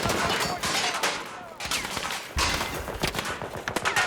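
Sniper fire in a shooting video game: a loud, dense fusillade of echoing gunshots in several bursts that fill the whole stretch, up close with no clear speech.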